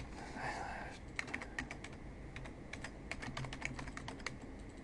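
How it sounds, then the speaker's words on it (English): Clicky computer keyboard keys tapped in quick irregular bursts while entering a web address, close and moderately loud over a low steady room hum. "I'm going to go ahead and type it in,"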